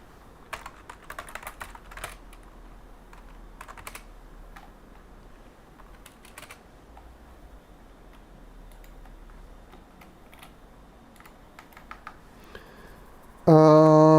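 Password typed on a computer keyboard, faint scattered key clicks in short bursts over a quiet background, ending with a sudden loud tone at the close.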